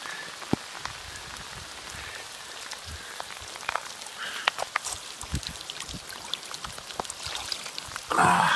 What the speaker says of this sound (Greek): Βρέχει καταρακτοδός.